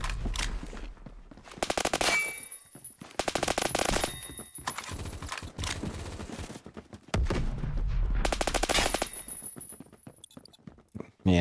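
Suppressed M4A1 assault rifle fire in the game Phantom Forces: several rapid, dense full-auto bursts separated by short pauses, loud and close, with no talking.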